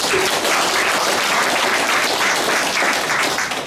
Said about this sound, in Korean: 격려의 박수 좀 한번 쳐주시기 바랍니다